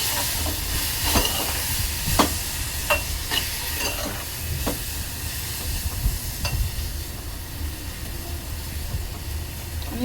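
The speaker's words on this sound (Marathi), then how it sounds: "तर याच्यामध्ये मँगो प्युरी टाकायची आहे, मिक्स करून घ्यायचं आहे।" Mango puree is stirred into a warm jaggery and coconut filling in a pan for mango modak, soft scraping strokes over a steady low sizzle, with a few sharper taps of the spoon against the pan.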